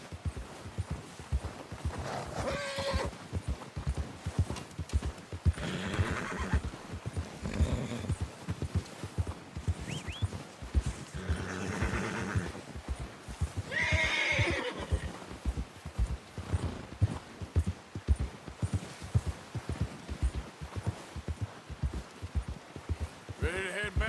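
A horse in the Red Dead Redemption 2 game whinnies several times over a steady clip-clop of hooves at a trot, the neighs rising at intervals above the continuous rhythmic hoofbeats, close and moderately loud.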